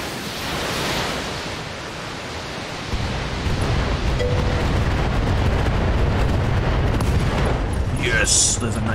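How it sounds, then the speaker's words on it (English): Mech ammunition explosion in the BattleTech video game, a sustained roaring, rumbling blast of noise that swells and holds for several seconds with a sharper burst near the end. "There's a nice ammo explosion there."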